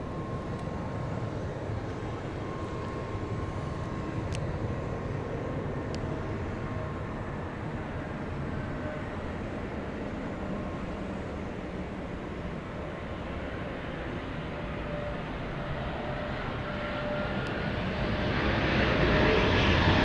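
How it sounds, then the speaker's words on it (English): An airliner lands at London City Airport, its engine roar steady and close throughout, a broadband rumble with a faint whine that swells louder toward the end as the aircraft passes. "That is a textbook landing."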